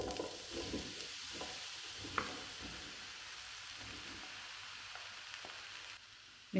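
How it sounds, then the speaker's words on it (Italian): Eggplant sizzles in a frying pan with a soft, even hiss and a couple of faint ticks and clicks, fairly quiet and steady throughout. "E adesso aggiungiamo in padella le melanzane."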